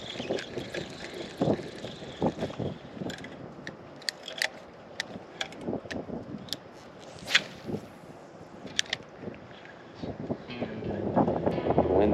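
Gusty wind blows across an open saltwater marsh of flooded grass, buffeting the microphone with low rumbling noise and scattered clicks and thumps, building stronger toward the end.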